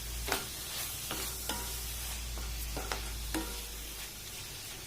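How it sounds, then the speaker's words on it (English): Mushrooms frying in butter in a pan, a soft steady sizzle with a few sharp utensil clicks and scrapes from occasional stirring, close and fairly quiet. "I let the mushrooms get fried in the butter."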